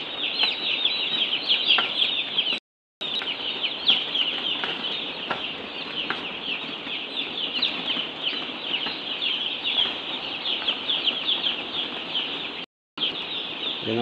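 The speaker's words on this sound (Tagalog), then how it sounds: "Yun ang sisigla ng mga manok natin" A pen of young broiler chicks keeps up continuous high chirping and clucking, with occasional wing flaps, a dense close flock sound broken by two brief silent gaps.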